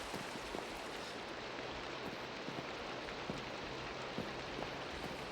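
Rain falling during Titanic ship gameplay, a steady dense hiss of drops with faint scattered patters, continuous and even throughout, no talking.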